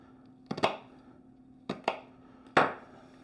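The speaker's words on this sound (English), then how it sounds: "But I'm cutting this in small little pieces." A knife chops an onion into small pieces on a cutting board. The close, crisp cuts come in three quick clusters of one to three strokes, with quiet gaps between them.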